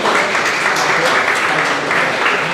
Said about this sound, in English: That's why they're applauding.